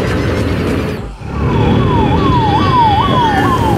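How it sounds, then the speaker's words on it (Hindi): An ambulance siren wails in loud, repeating rising-and-falling sweeps as it passes on a busy road, heard over steady traffic and engine noise. "एम्बुलेंस गई भैया"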